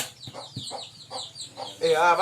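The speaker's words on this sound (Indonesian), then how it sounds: "tadi ada ayam" A chicken clucks in a series of short, close calls, ending in a louder, more drawn-out cackle, with no other sound competing.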